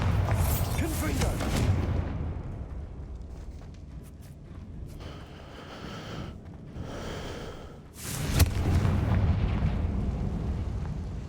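Heavy explosive blasts from a Confringo fire spell in the video game Hogwarts Legacy, booming loudly in the opening seconds, dropping to a rumbling lull, then erupting again in a second big burst near the end.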